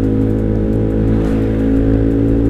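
A bored-up Honda Vario scooter engine idles high and revs through an exhaust fitted with a dB killer, a loud close continuous droning buzz with steady harmonic hum.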